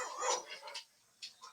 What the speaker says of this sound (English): my dogs were just barking too